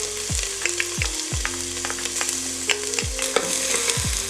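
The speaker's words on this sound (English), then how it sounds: "Let that saute for about 2 to 3 minutes." Onions and garlic sizzle steadily in melted butter in a heated pot, a constant frying hiss broken by several short scraping stir strokes, close and moderately loud with no talking.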